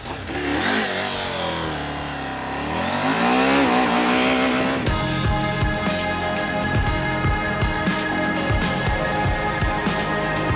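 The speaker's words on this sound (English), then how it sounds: "I'm gonna start off with practicing the brake slide of it" A car brakes into a power slide while practicing drifting into turns, with a loud engine revving and rising in pitch, then a steady roaring drone and tire noise for the rest of the run, no talk.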